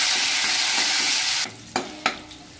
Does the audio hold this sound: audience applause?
no